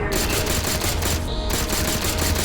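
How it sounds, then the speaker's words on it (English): Rapid energy-weapon fire from a plasma pistol in a modded Halo 4 game, loud, dense and continuous bursts throughout with a brief high whine partway through. "I really wish some of the sound effects were changed. Specifically the plasma pistol."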